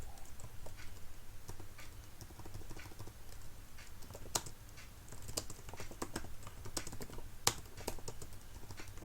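Steady keyboard typing, close and continuous, with irregular key clicks and a few louder taps standing out over a low background hum.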